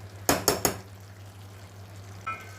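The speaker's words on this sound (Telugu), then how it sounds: "దీని మీద ఇట్లా మూత పెట్టేస్తాను" A metal lid set onto a pot of vegetable biryani: three sharp clattering knocks in quick succession, then quiet with a steady low hum and one faint later clink.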